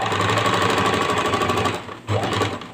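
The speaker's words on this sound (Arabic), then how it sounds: "نخيط هذو اليدين منا" A sewing machine stitches fabric handles with a fast, even mechanical rattle, loud and close, pausing briefly before resuming its rapid run, with no voices.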